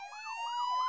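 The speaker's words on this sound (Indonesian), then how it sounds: "Ada ambulan ke rumah tu." An ambulance siren in an animated series wails in a quick, rising and falling pattern, heard alone for a brief moment.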